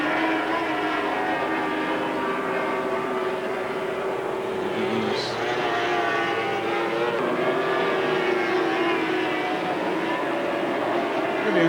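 Formula 4 racing powerboats with Evinrude outboard engines roar past at Nottingham, a sustained, droning engine whine with shifting pitch heard from a distance, the sound of several boats blending together.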